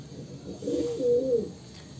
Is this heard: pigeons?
yes